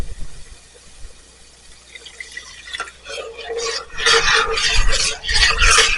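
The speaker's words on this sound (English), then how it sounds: "We're going to add our water. I'm going to just add a little bit at a time" Warm water trickles and splashes into a pot of roux for a Cajun meatball stew while a utensil stirs, growing louder and more continuous toward the end.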